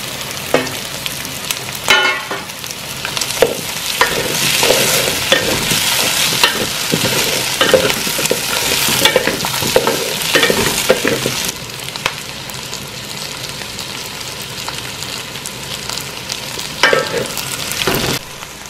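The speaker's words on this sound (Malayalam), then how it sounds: "സവാളയൊക്കെ നന്നായിട്ട് വഴന്നിട്ടുണ്ട്, ഉരുളക്കിഴങ്ങും നന്നായിട്ട് വഴന്നിട്ടുണ്ട്" Onions and potatoes sauté in a pan for a duck curry, a steady loud sizzle broken by frequent scraping stirs of a spoon against the pan.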